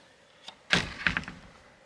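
A screen door on a DIY cattle-panel hoop house greenhouse swings shut on its retractable wire spring, giving a faint tap and then a louder clattering slam with a short rattling bounce, close by with no talk.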